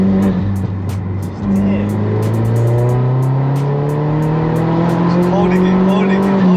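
A tuned Audi S3 8L with the 210 hp APY engine pulls hard through its gears, the engine note climbing, dropping at each shift, then climbing again, loud and close. A voice speaks briefly over it.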